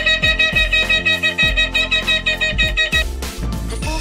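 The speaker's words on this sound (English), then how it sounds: "The third one is teruah, which is a short staccato notes extending over 3 seconds" A ram's horn shofar plays the teruah call, a rapid run of short staccato blasts spanning about three seconds, loud and close over a low rhythmic pulse.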